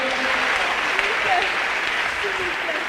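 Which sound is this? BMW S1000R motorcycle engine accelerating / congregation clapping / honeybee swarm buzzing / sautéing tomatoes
congregation clapping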